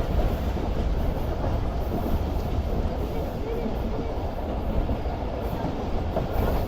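The Rehman Baba Express, bound for Peshawar, rumbles along the track with a steady low roar and faint rhythmic clatter of wheels, heard from inside the train throughout.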